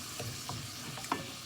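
Ground beef browning in a pan gives a soft, faint sizzle with a few light stirring scrapes and taps over a short moment, close up.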